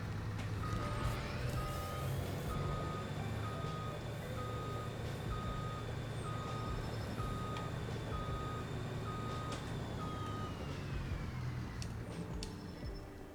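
Reversing beeps from a truck in Farming Simulator sound in a steady, evenly spaced series over a continuous engine drone, fairly loud and with no talk.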